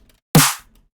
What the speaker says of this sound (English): The snare is really cool. It's like almost like a neuro-y type of snare.